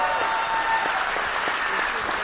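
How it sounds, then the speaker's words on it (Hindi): A live audience at a Hindi motivational seminar bursts into loud, sustained applause, dense clapping filling the hall steadily from start to finish. "एक बार जोरदार खुद के लिए ताली बजा दीजिए"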